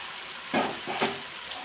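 Ginger garlic paste sautés in a pan for a fish curry, a steady low sizzle with two louder bursts of frying as the paste is stirred.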